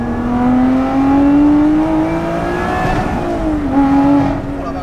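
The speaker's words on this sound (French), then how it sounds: "Et derrière vous, vous entendez le moteur de course, là je suis à 4000 tours." Loud, close engine of a Lotus Exige 430 Cup race car pulling around 4000 rpm, a steady droning rev that climbs gradually, dips briefly near the end and rises again, heard alone without talk.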